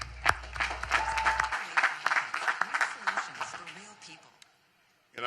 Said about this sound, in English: I want you to give them another round of applause.